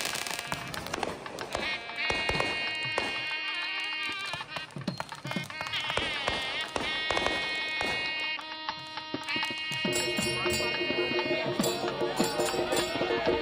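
Fireworks at a Vinayagar Visarjanam celebration at the Hindu Temple of Florida crackle and pop in rapid bursts, with shrill whistling rockets rising and sharp bangs following one after another.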